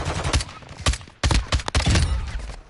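Call of Duty DMZ gunfight with repeated loud bursts of automatic gunfire, a few rapid volleys broken by short gaps, close and punchy with no voices over them.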